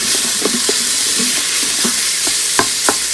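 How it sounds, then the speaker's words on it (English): Lean ground beef frying in an Instant Pot for chili while a utensil stirs it, a constant loud sizzle broken by repeated scraping knocks at an uneven rhythm. "So now add in your minced meat. Use some lean ground beef here and give this a nice mix."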